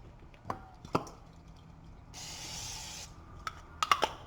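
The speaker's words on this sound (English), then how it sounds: "Probably spray it again." A short burst of cooking spray into a pan hisses for about a second amid light clicks and clinks of kitchen handling nearby.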